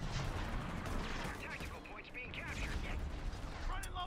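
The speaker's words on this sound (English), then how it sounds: "Oh, that's a grenade." A grenade goes off in a Company of Heroes 3 tank battle, bursting amid dense gunfire and rattling combat noise that carries on throughout, with a voice faintly present.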